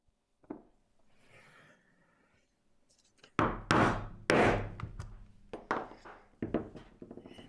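A few sharp knocks and heavy thuds as a strap punch is struck through leather on a firm surface, followed by scraping and shuffling handling noises, close by.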